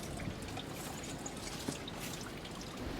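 Water trickles steadily at an old spring house, a soft continuous pouring and dribbling wash with faint outdoor ambience and no talk over it.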